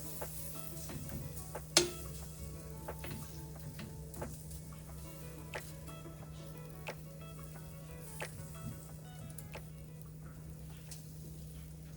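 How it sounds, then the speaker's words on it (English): Vegan pancakes cook in an oil-free skillet with a faint, steady sizzle, broken by scattered soft clicks and taps, under a low continuous hum. "While pancakes are cooking"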